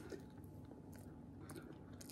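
Someone bites into a slice of homemade bread machine bread at home, with soft crunching and chewing running steadily through the short moment.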